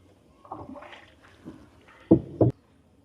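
Soft creaks and splashes of oars as a boatman rows a wooden boat, with two louder knocking strokes near the end, close by and otherwise quiet.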